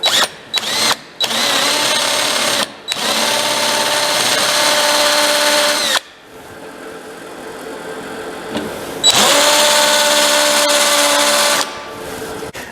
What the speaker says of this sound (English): Let's try running a Forstner bit down in there.